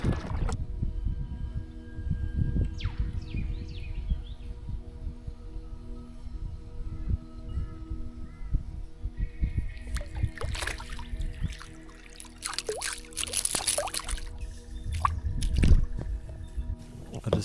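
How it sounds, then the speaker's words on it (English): A kayak paddled across a dam, with soft rhythmic paddle splashes, drips and trickles of water around the hull, close up, plus some faint background noise. "I thought I'd start paddling back and trawl on the way"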